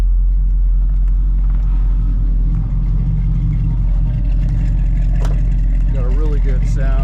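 A 1968 Camaro SS with dual exhaust and headers runs with a deep, steady low rumble, close and loud, before a brief rise in revs near the end.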